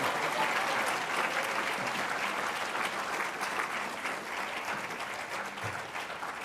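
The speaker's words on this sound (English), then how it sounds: "May I please have another round of applause" An audience at an oratorical contest claps in a steady round of applause that stays fairly even and moderately loud, then tapers slightly toward the end.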